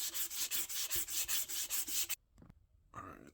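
A wooden hammer handle on a custom ball peen hammer is sanded with 150 grit sandpaper, brisk rhythmic back-and-forth rubbing up close, then it stops abruptly, followed by a brief knock and a short rustle.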